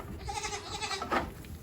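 Newly arrived goat bleats on a farm, a short wavering cry near the end over a faint background of rustling and soft noise, fairly quiet and close.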